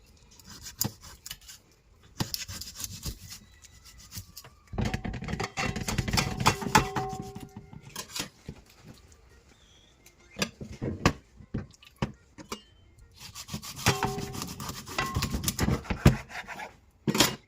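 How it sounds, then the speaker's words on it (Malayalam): Raw chicken being cut into curry pieces for a Kerala-style dish, with bursts of scraping, chopping and cutting noises against a board, separated by quiet pauses. "ഇനി ആ ഒരു രീതിയിൽ തന്നെ ഞാൻ കട്ട് ചെയ്തെടുക്കാം."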